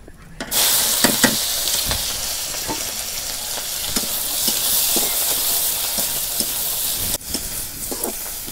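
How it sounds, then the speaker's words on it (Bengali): A paste of onion, green chili and garlic sizzles and fries with pieces of silver carp in a hot pan, a steady close hiss broken by repeated scraping stirs throughout. "এখন মশলা কষে নিব"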